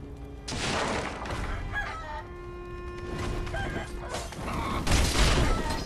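A rooster crows in Sekiro: Shadows Die Twice, its call rising over a dense backdrop of game noise, rustling and clatter, with bursts of sharper impact sounds near the start and end.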